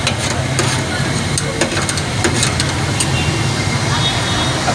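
Onions sizzle on a hot griddle at a Karachi street shawarma stall, a loud, busy fry with sharp scraping and clanking of a spatula, while voices and street noise carry on in the background.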